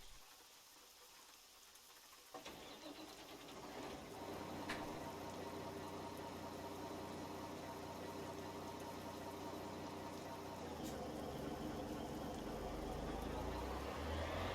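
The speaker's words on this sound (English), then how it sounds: "It is raining." Rain in American Truck Simulator, falling as a steady wash of hiss over a low truck engine rumble that swells louder toward the end.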